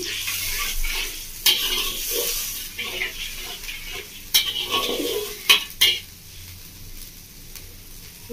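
Spice paste is stir-fried in a pan for a bottle gourd and prawn dish, with a loud sizzle and hiss that fades, broken by several sharp metal scrapes and clacks of a spatula, close up and without talking.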